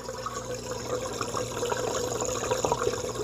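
A Samsung dishwasher drains after a fault that left its heavy and auto lights blinking, giving a steady, continuous rush and gurgle of water running through the pump, moderately loud and close, with no talking.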